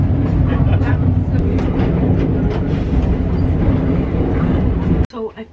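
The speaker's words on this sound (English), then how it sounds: "That's the train going." The British Pullman train moving along the track, a loud continuous rumble with rhythmic clatter that carries on steadily before cutting off abruptly near the end.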